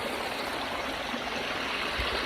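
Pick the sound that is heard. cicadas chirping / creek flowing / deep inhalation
creek flowing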